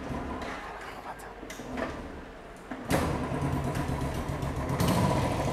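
A voice talks, then a Royal Enfield Thunderbird motorcycle engine catches partway through and keeps running with a steady rumbling idle up close.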